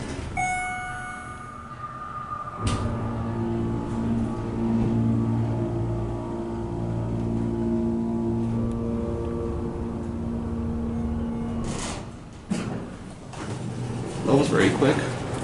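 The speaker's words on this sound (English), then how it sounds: "This is the elevator that goes out to the Crossroads Conference Center here in a small arena in the main hall." A Schindler 300A hydraulic elevator at an expo center runs with a steady low motor and pump hum, opening and closing with door thumps near the start and end and a brief voice at the finish.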